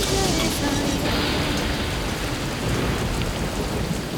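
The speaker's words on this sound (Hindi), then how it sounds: "ये बारिश तो कम होने का नाम ही नहीं ले रही है।" Heavy rain pours down steadily and loudly, with a dense hiss of drops hitting surfaces and low rumbling thunder beneath it, continuous with no voices.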